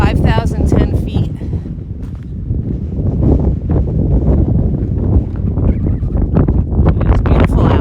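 Gusty wind buffets the microphone on a high mountain trail beneath a jagged peak, a steady broadband roar that swells and dips throughout, with a person talking over it.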